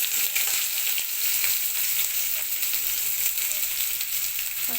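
Onion and bay leaf fry in a little oil in a wok, giving a continuous, close, even sizzle with no voices.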